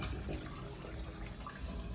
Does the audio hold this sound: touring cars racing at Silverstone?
no